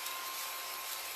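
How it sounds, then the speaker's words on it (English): A small handheld vacuum cleaner sucks up craft mess, giving a steady, fairly quiet whirring hiss with a thin whine that runs unbroken through the whole moment, with no talking. "So it's my little handy dandy vacuum."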